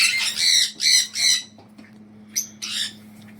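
Aviary parrots let out three loud, harsh squawks in quick succession, then two shorter calls after a brief pause, with a steady low mechanical hum underneath throughout.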